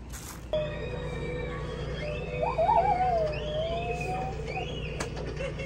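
A child imitates bird calls at a campground, making warbling, whistled, cooing sounds that rise and fall in short bursts over a steady low background hum.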